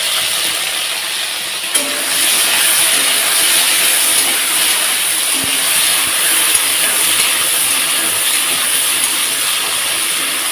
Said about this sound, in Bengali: ভেন্ডিগুলো আমি সুন্দর লাল লাল করে ভেজে নিয়েছি